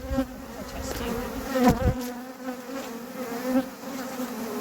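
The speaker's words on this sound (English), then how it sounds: "you can hear the sound of the bees change" A dense, humming swarm of agitated honey bees at a horizontal top-bar hive buzzes steadily close by, the pitch wavering and rising in surges, with a brief knock partway through.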